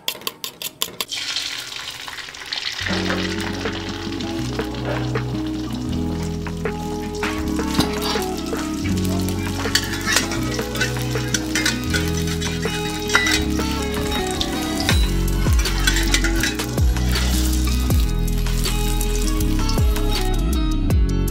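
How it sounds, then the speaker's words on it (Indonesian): Steady sizzling of eggs frying in a hot wok, with clinks and scrapes of a utensil stirring throughout, no talking. "Pertama-tama kita harus goreng telur dulu."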